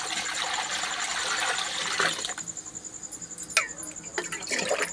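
Milk poured into a karahi wok for making dhooda sweet rushes and splashes steadily for about two seconds, then stops, leaving a few sharp metallic clinks and short bursts of pouring.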